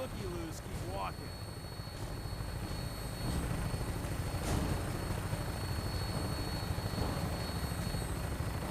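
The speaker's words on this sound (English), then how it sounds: "When we land, Tinker's gonna keep the vertibird spooled for an immediate takeoff" Rotors of a vertibird aircraft in Fallout 4 in flight, a steady loud thrumming drone that persists throughout beneath game chatter and voices.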